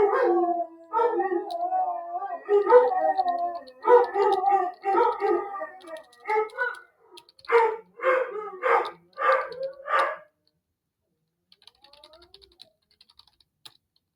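Dogs howl and bark in a series of long, loud, drawn-out cries for about ten seconds, close by, with computer keyboard typing clicking through and continuing faintly after the dogs fall silent.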